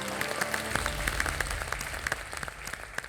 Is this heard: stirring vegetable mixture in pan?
no